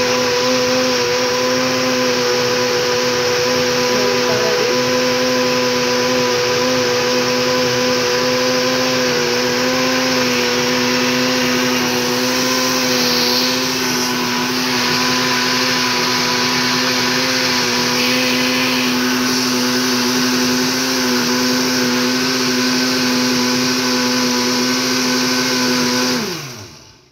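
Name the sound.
blender blending juice ingredients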